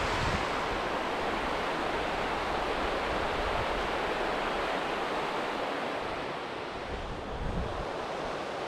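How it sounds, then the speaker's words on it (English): Water rushes steadily at Backwater Dam in Scotland, a dense, unbroken roar close to the microphone, mixed with buffeting wind noise throughout and easing slightly near the end. "Check out this, the way the water's flowing in here"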